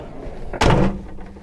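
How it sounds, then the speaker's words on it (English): The boot doors of a Nissan Patrol Super Safari swing shut with a single solid, heavy thud, a loud close-up slam with a short resonant tail and no talking. "listen to the sound of these boot doors when they close"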